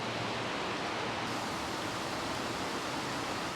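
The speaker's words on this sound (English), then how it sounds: "If you're looking for a cool waterfall, a bit more off the beaten path, this one is definitely recommended." Waterfall tucked off the beaten path near Ubud, Bali, giving a steady, dense broadband rush of falling water that stays constant and fairly close throughout, with no voices.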